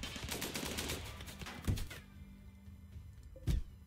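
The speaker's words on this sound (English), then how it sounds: "Really, the machine gun can fire that far." Machine gun fire in the Rimworld colony-defense game, a dense rattling burst filling the first two seconds, then two sharp isolated thumps against a quieter background.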